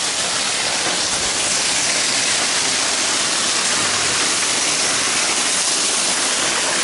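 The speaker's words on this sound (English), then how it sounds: "Here we got water going right into the creek." Water pours steadily into Rowdy Creek at a fish hatchery, a loud, dense, unbroken rushing wash that fills the whole stretch with no pauses.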